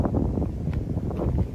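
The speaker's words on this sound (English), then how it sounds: "But it's getting windy now." Wind gusts through Nishinomaru Garden in Osaka, a continuous low buffeting rumble pressing against the microphone with no pauses.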